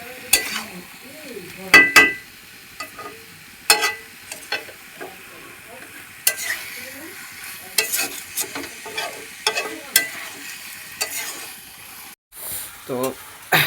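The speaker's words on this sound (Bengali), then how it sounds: "ভালো করে নেড়ে নিতে হবে।" Chicken pieces frying in a pan are stirred vigorously, with repeated loud scraping and clattering strokes of the spatula over a sizzling background, broken by short pauses.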